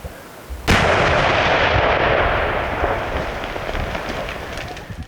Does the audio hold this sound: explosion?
yes